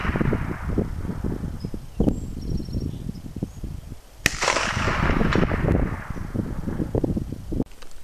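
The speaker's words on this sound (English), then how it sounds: "And I'm gonna take some shot at 250 yards" An AK-pattern rifle with a new scope, Archangel buttstock and Tapco handguards is fired outdoors at a 250-yard target: a few sharp cracks several seconds apart over steady wind noise.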